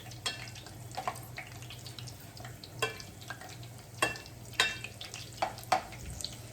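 Falafel frying in hot oil, a soft steady sizzle with intermittent sharper crackles and pops spread through, heard close and moderately quiet with no talking.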